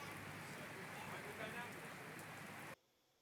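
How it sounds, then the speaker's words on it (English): Heavy rain pours down steadily in a dense, loud hiss during a downpour that interrupts outdoor work, then cuts off abruptly near the end to near silence. "one of our workdays was interrupted by several heavy downpours"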